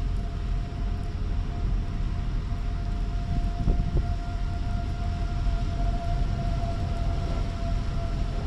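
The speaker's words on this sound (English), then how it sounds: "Do y'all hear the siren?" A steady, droning siren wails faintly in the distance over constant low rumbling background noise, with no voices.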